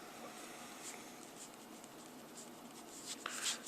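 Pen or pencil scratching on paper while an algebra equation, negative 48 equals negative 12x, is written out by hand; soft, steady strokes, faint and close, with no talking.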